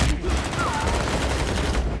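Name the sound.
gunfire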